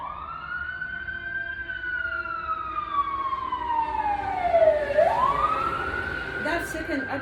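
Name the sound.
ambulance siren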